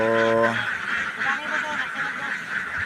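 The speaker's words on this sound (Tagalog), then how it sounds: "dito na natin kinakarga yung ating mga alagang itik" Domestic ducks being loaded onto a truck give a loud nasal quack at the start, and then fainter, scattered quacks sound over a busy background with a voice.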